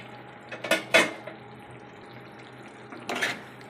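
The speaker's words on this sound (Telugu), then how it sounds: "అట్లా పైకి కిందికి మంచిగా కలుపుకుంటా" Dried prawn tomato curry stirred in a pot, a few clinking and scraping strokes of a spoon against the metal, close and fairly loud, with quiet gaps between.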